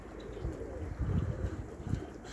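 Soft, low pigeon coos repeat in a loose rhythm against a steady background murmur, close by and moderately loud.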